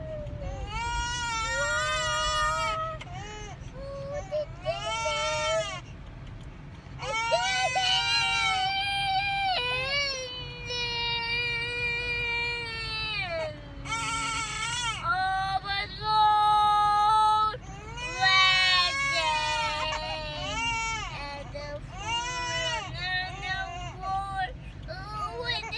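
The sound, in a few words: baby crying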